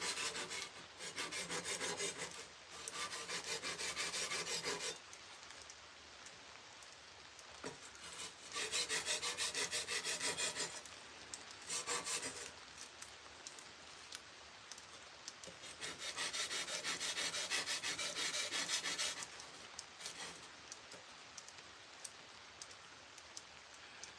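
A sword is drawn across a sharpening stone in long repeated stretches of gritty rasping, with short pauses between the bursts of strokes. The sound is close and steady, and no one speaks.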